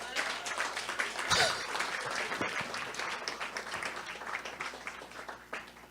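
A crowd claps steadily at an awards dinner, with a murmur of voices mixed in, the applause slowly thinning toward the end.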